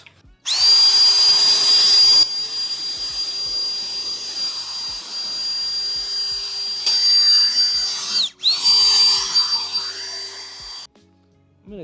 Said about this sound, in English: My dad bought a air drying gun. We're gonna find out and see if it works.